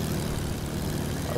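Propeller airplanes drone past in a multiplayer video game, a steady low engine roar filling the whole moment without a break.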